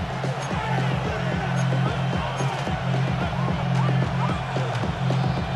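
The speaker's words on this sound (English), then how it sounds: "This crowd turning up the decibel level" Stadium crowd noise in Madden NFL 26, a steady, loud roar of cheering and babble filling the scene, with faint thuds and game sounds underneath and no clear voices on top.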